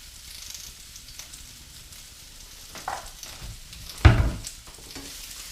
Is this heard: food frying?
yes